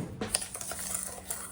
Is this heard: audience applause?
no